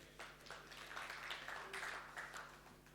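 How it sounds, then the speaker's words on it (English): Faint, sparse clapping from a small group at a casual prize announcement, a few hands patting unevenly for a few seconds at a distance. "you notice the clapping is kind of like, they won, I didn't"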